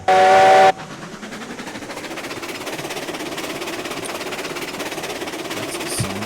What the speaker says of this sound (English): That's the sound of a Heisler.